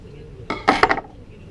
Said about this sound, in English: Take a knife and run it right down the handle.